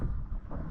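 Wind buffets the microphone at a beach tent in the Bahamas, a brief, dense low rumble of gusts that stays steady throughout.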